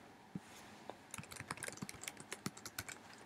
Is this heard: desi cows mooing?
no